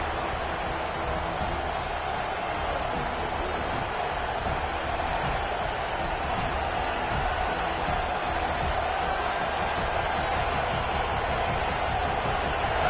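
A football stadium crowd at a Florida vs Michigan State game roars in a steady, dense wash of noise, with no clear breaks across the stretch.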